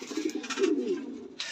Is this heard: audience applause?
no